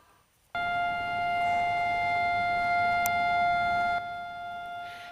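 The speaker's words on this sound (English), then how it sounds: "Sirens blared for 2 minutes at 10 a.m." Memorial sirens blare across Israel during an annual two-minute standstill, a loud steady wail holding one unwavering pitch with strong overtones, starting abruptly after a brief quiet moment and running continuously to the end with no talk.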